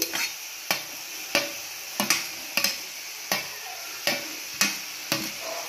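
Grated carrot stirred in melted jaggery for carrot halwa, about ten sharp regular scrapes and clicks of a spoon against the pan, close and evenly paced, over a faint sizzle.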